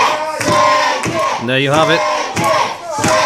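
Wrestling crowd cheering for a wrestler, a loud arena roar of chanting and shouting voices rising and falling, with a commentator speaking over it.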